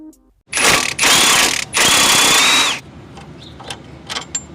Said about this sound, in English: You'll need a 15mm socket with the 18mm wrench to remove the sway bar link.